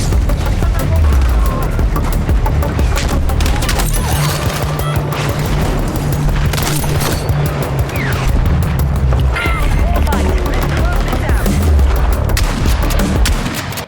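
Sustained, loud gunfire from the video game Battlefield 6, with rapid automatic bursts and heavy booms filling the whole stretch, likely with faint voices mixed in under the shooting.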